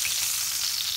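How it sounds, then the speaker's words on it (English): Greek saganaki cheese fries in a pan with a steady, close, bright sizzle and spatter that holds evenly throughout, with no voices. "the cheese has been cooking for another few minutes"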